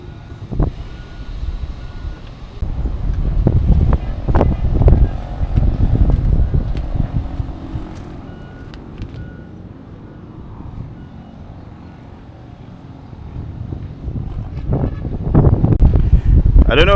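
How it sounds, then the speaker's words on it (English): Loud road traffic rumble from below the new Demerara Harbour Bridge swells and fades as vehicles pass, with intermittent reversing beeps and wind, and a voice speaking over parts. "from up here the noise of the traffic down there is very loud"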